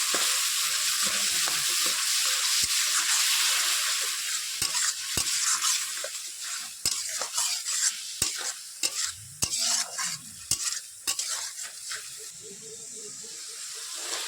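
Spice paste with turmeric and salt is stir-fried in a hot pan, giving a loud, continuous sizzling hiss with repeated sharp scrapes and clinks of a spatula stirring it.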